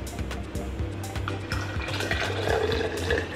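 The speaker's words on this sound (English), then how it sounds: "So cold water up to 500." Cold water poured into a container while making kombucha, a short, fairly quiet gurgling splash with faint clunks, no talking.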